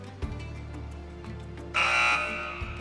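Quiz show buzzers go off during an Islamic quiz competition, a loud sustained electronic buzz lasting about two-thirds of a second and ringing out clearly over a quiet background.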